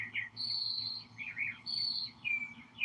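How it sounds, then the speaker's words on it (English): Morning birdsong outdoors, high clear whistled phrases and trills repeating in a steady back-and-forth pattern, moderately faint over a low background hum. "Listen to these birds this morning, you guys."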